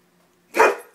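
A dog lets out one sharp, close bark at a cat, standing alone against a quiet room.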